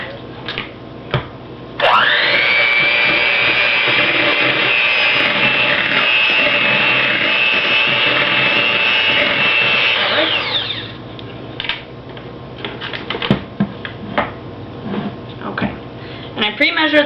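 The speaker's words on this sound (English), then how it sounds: "So we're going to mix that together with our mixer." An electric mixer beats banana bread batter in a loud, steady whine. It starts abruptly, runs for about eight seconds, then cuts off, leaving quieter clatter and background voices before and after.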